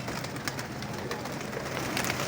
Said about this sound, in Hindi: नीचे भी कबूतरों का ढेर लगा हुआ है